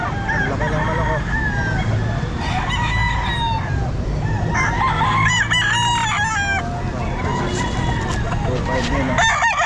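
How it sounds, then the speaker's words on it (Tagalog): Large chickens crowing and clucking at a busy pet market in Calumpit, with several overlapping crows close by amid a steady crowd din and people talking. "Ang laki ng manok oh."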